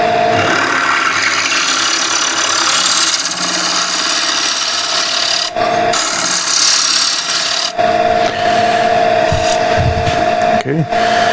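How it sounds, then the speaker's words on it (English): A wood-turning gouge rasps steadily against a hand-turned wooden plate on a lathe, a continuous near, loud scraping with a steady tone beneath and short breaks where the cut pauses. "I'm putting my hand over the gouge so I deflect the shavings."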